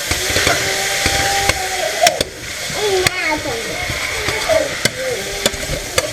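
Onions are stirred in a pot for venison stroganoff, with a close sizzle under scraping spoon strokes and sharp knocks against the pot, while a voice talks quietly over it.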